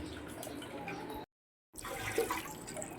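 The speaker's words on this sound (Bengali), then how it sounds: "এবার এটাকে আমি জল দিয়ে ধুবো ঠান্ডা জলে ধুবো" Fresh chhana, soft paneer curds, being rinsed under running cold water: a steady close splashing flow that breaks off for about half a second and then resumes.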